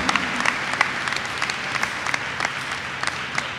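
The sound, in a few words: applause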